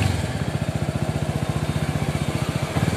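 Suzuki Gixxer 250 motorcycle engine idling steadily at close range, a rapid, even low thumping pulse with no speech over it.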